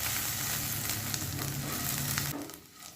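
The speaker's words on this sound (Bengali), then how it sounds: "মিডিয়াম ফ্লেমে আলুটা আমি 3 থেকে 4 মিনিট ভেজে নেব।" A medium-sized potato fries in a pan over a medium flame with a loud, continuous close sizzle that drops away abruptly near the end.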